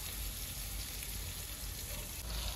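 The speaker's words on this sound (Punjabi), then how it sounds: "ਹੁਣ ਚਾਵਲਾਂ ਦੇ ਪਿਆਜ਼ ਅੱਗੇ ਕੱਟ ਕੇ ਰੱਖੇ ਹੋਏ ਹਨ ਹੁਣ ਇਹਦੇ ਵਿੱਚ ਪਾ ਲੈਣੇ ਘਿਓ" Ghee frying in a pan for cooking rice with onions, heard as a dense, steady sizzle and crackle that stays close and fairly loud throughout, no voices.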